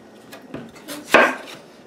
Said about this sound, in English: I have my tomatoes here. It's nice and washed, so I'm gonna cut it into pieces.